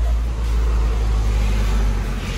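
Cars speed past on a busy road, a steady loud rumble of traffic noise close by with no pauses.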